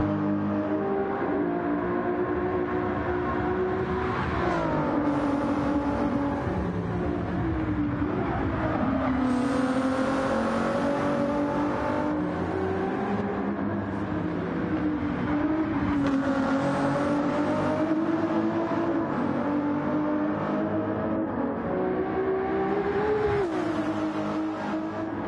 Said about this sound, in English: just listen to the noise of this beautiful car.